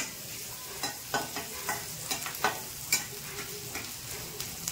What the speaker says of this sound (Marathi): कांदा मिरची तेलात फ्राय करायला चालू